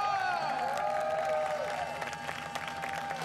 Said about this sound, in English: And now listen to a big cheer as well, also for Jochen Hahn.